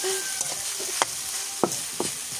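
Chicken frying with ginger and garlic in a pan gives a steady, close sizzle, broken by a few sharp stirring clinks and scrapes from a utensil.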